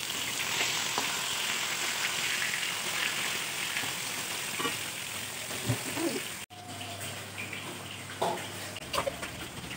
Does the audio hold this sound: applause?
no